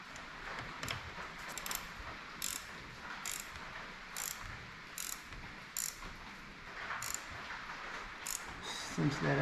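A ratchet snugs up a bolt on a new leaf spring set in short repeated bursts of clicking, fairly close and moderately loud, with a final quicker run at the end.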